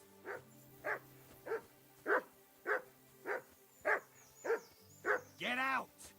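Dog barking in the video game Tails of Iron 2, about nine evenly spaced barks over a soft musical bed, ending in a longer whining yelp.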